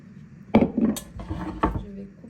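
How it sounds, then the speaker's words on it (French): Ingredients for harira, including halved potato, carrots and onion, dropped into a cooking pot, giving a few distinct clanks and knocks of metal and vegetables against the pot, close and moderately loud in an otherwise quiet kitchen. "je vais prendre ma marmite et je vais tout mettre dedans"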